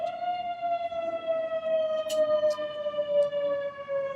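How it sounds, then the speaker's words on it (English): A wailing siren with a slowly falling tone sounds steadily and loudly, with a few faint clicks over it and no talking. "Coming sirens blaring into this stream with another incredibly generous gift."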